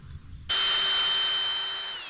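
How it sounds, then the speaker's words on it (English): A power drill whirs steadily as it drives a screw into a standing seam metal roof, starting suddenly and holding a high, sustained whine with slight pitch drop near the end. "By angling the drill slightly inward, I'm able to get a little more meat around the screw."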